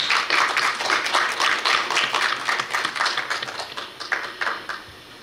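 An audience in a lecture hall claps to welcome a student at a Korea University graduate school entrance ceremony, with dense, sharp clapping that tapers off over a few seconds.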